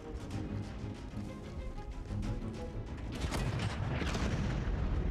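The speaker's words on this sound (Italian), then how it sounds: "Abbiamo sentito gli schianti dei proiettili d'artiglieria, inframmezzati dal violento fuoco di mitragliatrice proveniente da entrambe le parti" Continuous rumbling artillery shell explosions and dense machine gun fire from a reconstructed World War II battle at El Alamein, a heavy, booming barrage that swells louder toward the end, with no voices.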